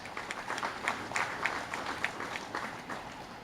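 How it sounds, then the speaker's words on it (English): An audience at a cricket awards ceremony applauds with a fairly faint, steady patter of clapping from a crowd. "you deserve a round of applause"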